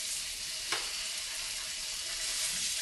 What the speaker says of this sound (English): Want a nice sizzle, just like that.